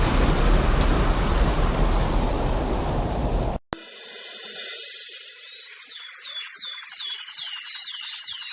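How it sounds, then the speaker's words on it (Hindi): Heavy rain pours down in a cartoon story, a loud dense downpour that cuts off abruptly midway and gives way to a quieter outdoor scene. "यह तो बहुत जोर की बारिश आ गई।"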